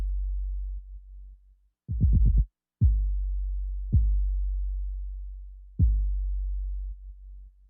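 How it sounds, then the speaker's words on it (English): Deep trap 808 bass droning at 80 bpm, ducking out abruptly each time a punchy kick drum lands: a quick burst of kicks, then three single hits spaced about a second apart, with no voices. "hear the hole in the 808 when that kick drum happens"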